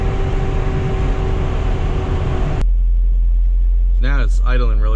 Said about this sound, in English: Now it's idling really good. It idles a little high, I think.